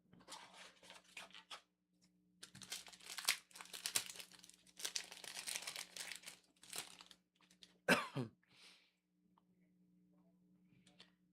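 A foil trading card pack bag crinkles and crackles in short bursts, close and fairly quiet, with a louder tearing rustle near the end, against a faint steady hum.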